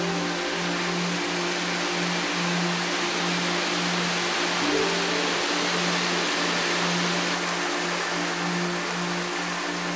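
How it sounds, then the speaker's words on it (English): Shiraito no Taki Falls, a waterfall fed by spring water with a flow of over 100,000 tons a day, pours in a loud, continuous, even roar with no voices. "20 years later, it pours out as spring water here at the Shiraito no Taki Falls"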